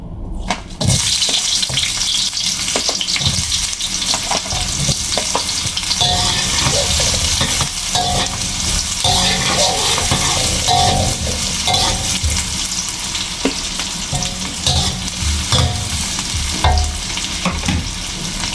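Onions sizzle loudly in a hot pan, a dense, continuous hiss of frying with faint stirring scrapes throughout.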